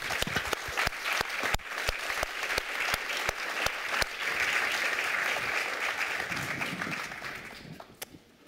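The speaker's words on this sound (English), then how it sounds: "Great applause to all of you" Sustained audience applause after a panel of speakers at a talk event, many hands clapping with sharp individual claps standing out, swelling in the middle then tapering off near the end.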